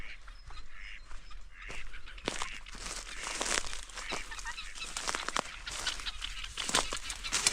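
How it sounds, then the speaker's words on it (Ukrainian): Ducks quack and call outdoors amid a busy chorus of birds, with steady background noise and scattered nearby squawks. "Дикі качки літають."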